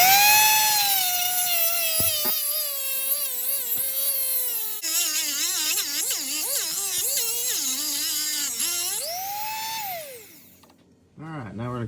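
A power tool whines loudly and steadily as it cuts the starter boss off an Arctic Cat Wildcat X metal case, its pitch wavering under load, then winds down and stops near the end.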